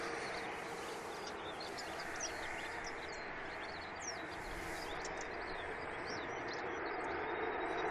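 A Ryanair airliner departs Manchester International Airport toward Berlin, heard as a distant, steady broadband jet roar with faint bird calls chirping over it.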